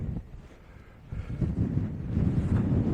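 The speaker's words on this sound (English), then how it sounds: "Hopefully you can hear me because it's very windy." Strong wind buffeting a microphone outdoors on Dartmoor at sunrise, a close, gusty low roar that eases briefly and then builds louder and rougher.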